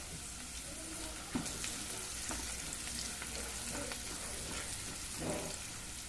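Spinach sizzling in a pan with a light sprinkling of turmeric for palak paneer, a steady loud hiss and crackle with occasional stirring scrapes and clinks throughout.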